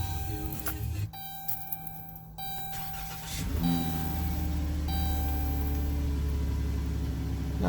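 A car engine cranks and catches after a jump start from a portable booster pack, then settles into a steady, fairly loud idle that carries on to the end.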